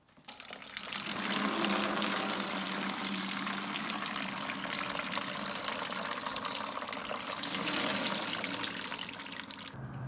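Oil drains out of a small-block Chevy 350 engine during a full rebuild, a continuous splashing, pouring stream that starts abruptly and runs steadily and close for about ten seconds, with no talking.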